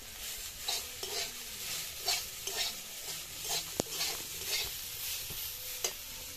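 Flattened rice (chira) being stirred into fried potatoes and vegetables in a pan, rhythmic spatula scrapes repeating about once a second over a low sizzle, with an occasional sharper metal tap.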